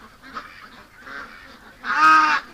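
Ducks in a pen give a few faint honking quacks, then one louder nasal call close by.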